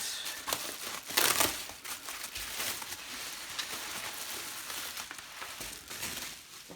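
Plastic packaging crinkling and crackling as a Panasonic RQ-CW01 transparent cassette Walkman is unwrapped, close and irregular, with a louder burst early on and no talk.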